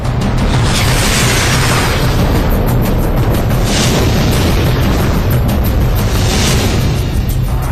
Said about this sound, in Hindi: आसमान से बरसती इन मिसाइलों और बमों ने धरती पर कैसा विध्वंस मचा रखा है